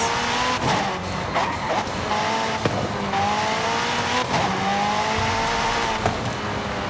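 In Forza Horizon 5, a car races around a disused airfield, its engine droning loudly with shifting pitch while the tires squeal and skid under braking, punctuated by a few sharp thumps, with no talking.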